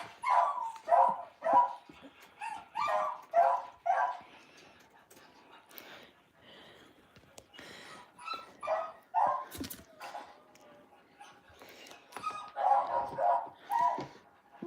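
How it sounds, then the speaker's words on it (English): Stressed dogs barking and whimpering in repeated bursts, some loud and near, with softer whines and yips between the barks. "Stressed dogs."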